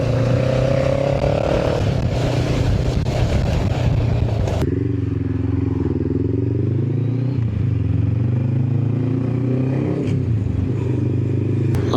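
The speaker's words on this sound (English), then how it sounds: "Oh, more gravel." A motorcycle rides along a gravel road near a village in Scotland, its engine droning steadily and loud with constant crunching clatter from the loose surface and wind rumble throughout, and the tone shifts partway through.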